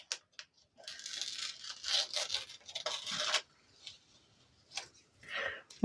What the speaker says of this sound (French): je sais que je peux enlever mon scotch.